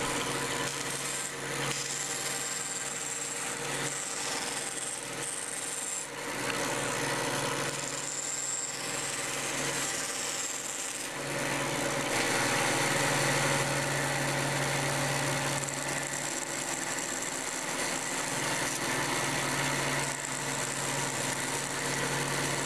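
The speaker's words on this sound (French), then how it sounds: "Attention de ne pas tordre la lame de la scie lors d'une coupe en courbe." A hand saw cuts steadily through a workpiece, shaping the teeth of a gear and rack and following curved lines close to the teeth, with continuous rasping strokes throughout and no voices.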